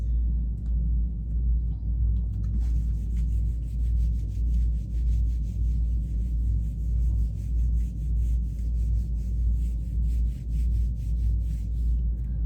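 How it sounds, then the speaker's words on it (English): Writing is erased from a board during a math lesson: rhythmic back-and-forth rubbing strokes begin a few seconds in and continue over a constant low rumble. "let me go ahead and erase this"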